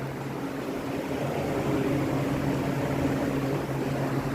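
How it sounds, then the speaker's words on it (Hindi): An indoor air cooler runs steadily, giving a constant low hum with a soft whooshing airflow, fairly quiet and unchanging throughout. "कूलर की ही आवाज़ आ रही है ये।"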